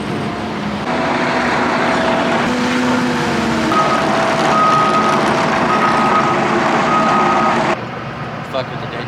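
A truck reverses at a site work job, its backup alarm beeping in a steady repeating rhythm over loud engine rumble, with people talking nearby.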